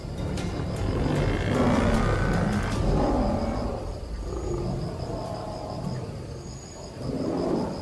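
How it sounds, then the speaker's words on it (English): A big predator roars in the African wild, a deep, rumbling, sustained growl that swells and fades over a thundering low background, with no voices. "From yards away, a roar shatters the stillness."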